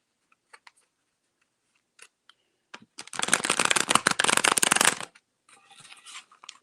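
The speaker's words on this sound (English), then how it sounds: "I'm going to shuffle these cards" Tarot cards being shuffled by hand, with a few scattered taps and card handling, then a dense two-second riffle of crisp, rapid flicking, then softer shuffling toward the end.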